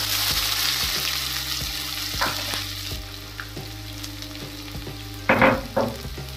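Steady sizzling of finely chopped onions frying in a pan with whole spices, with intermittent stirring clinks and a louder burst of spattering near the end.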